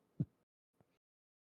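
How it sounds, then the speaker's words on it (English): A single heartbeat, faint and close, gives a soft low thump and then a weaker second beat, followed by silence. "That's your heartbeat"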